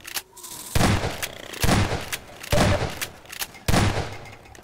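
Gunfire in Half-Life 2: Episode Two, four loud bursts at roughly one-second intervals, each sharp crack followed by a short rumbling tail.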